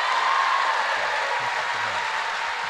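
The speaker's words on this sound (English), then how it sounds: "How about another round of applause for McClarty Daniel?" A crowd at a teacher appreciation event gives a dense, steady wash of applause that stays fairly constant from start to finish.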